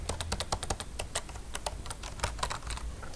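Someone types on a new, flat, quiet computer keyboard with rapid, uneven key clicks that are soft, close and crisp, with no talking.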